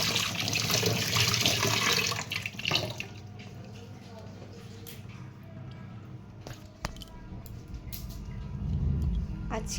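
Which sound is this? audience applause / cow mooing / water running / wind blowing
water running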